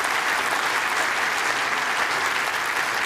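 Steady, dense applause from an indoor bowls crowd at a world championship match between Jason Banks and Mark Dawes, a continuous wash of many hands clapping throughout with no pauses.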